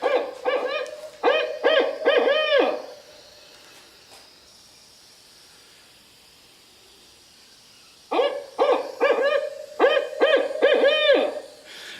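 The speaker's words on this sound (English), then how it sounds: "The classic hoots, of course, everybody kind of knows the hoo hoo hoo hoo hoo hoo who cooks for you as it goes." Barred owl hooting its rhythmic 'who cooks for you' call, two clear bursts of loud, close hoots separated by a quiet gap of faint background.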